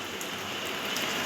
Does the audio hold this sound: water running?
no